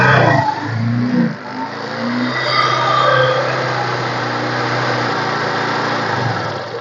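A 2007 Honda Shine motorcycle, a self-start model with alloy wheels and disc brake, revs loud and close, the engine note climbing and then holding a steady, buzzing drone.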